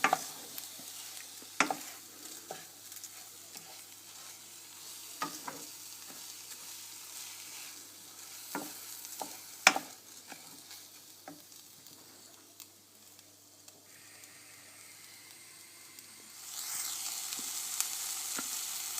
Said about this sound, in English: The rice, you just want to get it in there and make sure it's all coated in the oil.